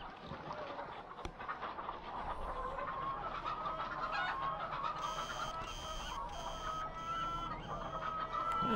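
Chickens cluck repeatedly in the farm video game Farming Simulator 2015, steady and fairly loud, set against continuous game background noise with no talk.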